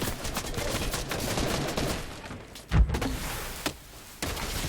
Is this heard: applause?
no